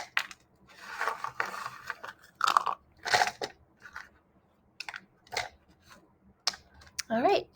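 Bone dry clay is snapped into pieces by hand, giving a series of sharp, dry cracks and crunches spread irregularly across the passage, close and fairly quiet.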